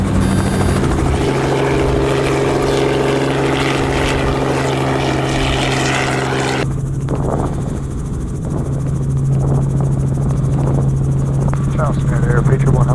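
Patriot 1 helicopter lifting off and flying over Charleston, South Carolina: a loud, steady rotor and turbine drone that runs the whole time, with its tone shifting abruptly partway through, heard close from inside the aircraft.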